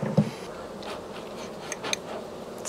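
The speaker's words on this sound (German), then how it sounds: "Jetzt ist noch eine Biene drin" A single honeybee trapped inside a small queen cage, buzzing faintly and intermittently up close, with a few small handling clicks and scrapes in the quiet.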